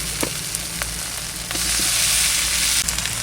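Potatoes and prawns hit a hot pan and sizzle loudly and steadily at close range. A few spoon taps sound near the start, and the hiss swells toward the end without any talk.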